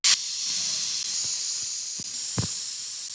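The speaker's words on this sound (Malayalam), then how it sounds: "ഒരു മീഡിയം തീയിൽ 4 വിസിൽ വരുന്നവരെ അങ്ങ് അടച്ചു വെക്കുക" A steady, loud hiss of escaping steam from a pressure cooker cooking chicken runs throughout, with a few soft knocks and clicks in the background.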